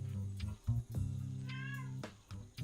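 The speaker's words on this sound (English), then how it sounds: "It's the cat." A house cat meows a couple of times nearby, short tonal calls rising and falling over a low steady background hum, with no talk.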